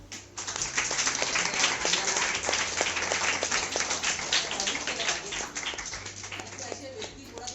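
Audience applause at a talk, a dense patter of many hands clapping steadily for several seconds under a low hum, with a voice briefly heard.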